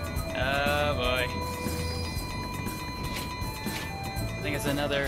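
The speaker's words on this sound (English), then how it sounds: "I think it's another gray train." Train Valley video game trains rolling on rails with a steady rumble, punctuated by bright whistle-like horn tones near the start and end, with layered game sounds throughout.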